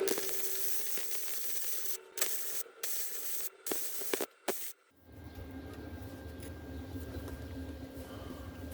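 Bursts of MIG welding on motorcycle rear fender struts crackle and hiss in short sputtering runs, with brief gaps between them, then give way to a lower steady hum near the end.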